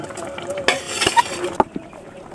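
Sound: stirring fried eggs into boiling curry

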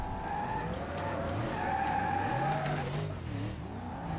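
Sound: car drifting and skidding in the video game BeamNG.drive

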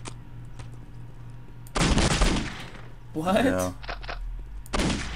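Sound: pistol gunfire in video game Postal 2

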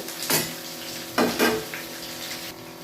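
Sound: frying ginger, garlic, green chili and onion in a pan

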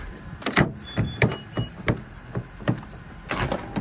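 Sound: 2019 Honda CR-V power tailgate closing by button

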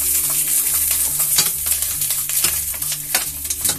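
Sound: meat-stuffed peppers frying in a pan

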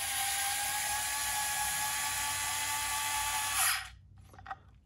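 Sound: cordless screwdriver driving a screw

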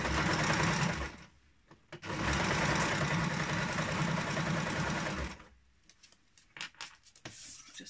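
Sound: sewing machine stitching a scooter bag

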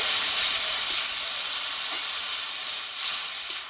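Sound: water added to potatoes frying with spices

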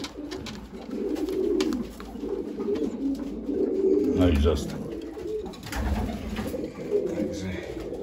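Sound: racing pigeons cooing

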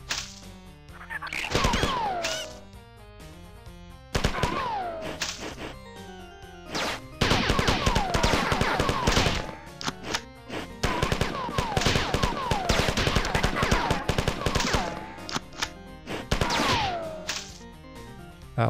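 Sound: gunfire from a gun in video game Marathon

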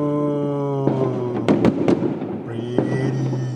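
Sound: fireworks exploding at New Year

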